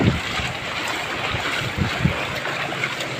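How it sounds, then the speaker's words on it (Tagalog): Strong wind gusts roar and buffet the microphone during heavy flooding and nonstop rain, a continuous, close rushing noise with a few low thumps and swells of turbulence. "Ang lakas pa ng hangin"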